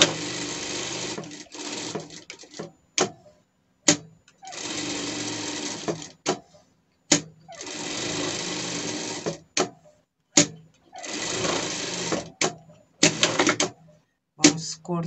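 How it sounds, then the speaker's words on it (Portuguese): Sewing machine stitching a seam through satin and acrylic batting for a pet dress, bursts of rapid whirring stitches broken by short pauses and clicks, close and steady, with a voice speaking in between. "vamos passar uma costura de fora a fora aqui"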